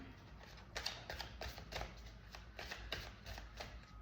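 A deck of tarot cards being shuffled by hand at close range, with a quick series of soft riffling flicks and taps, quiet and with no talking.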